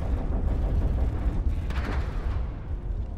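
Cannon fire in the video game Iron Harvest, heavy booming artillery blasts rumbling low and loud over a continuous battle din, with a sharper crack partway through.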